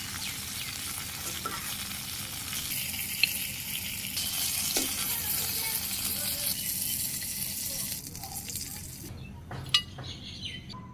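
Fish frying in oil in a kadai in a Bangladeshi village kitchen, a steady close sizzle that runs throughout, with a couple of brief clinks and faint bird calls in the background.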